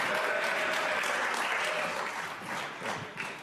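Applause fills a legislative chamber right after a Senate amendment passes on a 75 to 24 vote, a dense, steady clatter of many hands that stays loud and thins only slightly toward the end.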